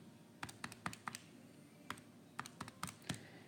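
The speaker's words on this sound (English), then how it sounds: "So I'm going to type that in." Soft, quick button taps on a calculator as numbers are keyed in, about a dozen light clicks in irregular bursts over a quiet background.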